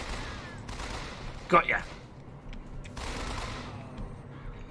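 Gunfire from a weapon in the video game BioShock Infinite, a short burst of shots with a brief loud peak, set among game ambience while a person talks.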